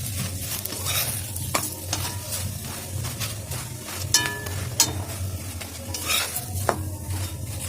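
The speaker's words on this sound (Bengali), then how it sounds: "এইভাবে এটাকে তেল দিয়ে ভেজে নিতে হবে" A cabbage paratha fries in oil in a pan with a steady sizzle. Frequent spatula scrapes and metallic clinks against the pan sound close, with no talking.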